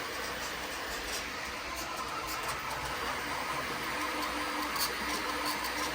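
A Bambu Lab 3D printer running at normal speed gives a steady, dense mechanical whir with faint high-pitched stepper whine, continuous and fairly close throughout, with no talking.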